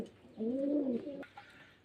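A pair of high-quality Giribaz pigeons gives one clear, close, drawn-out coo, followed by a softer short call in a quiet setting.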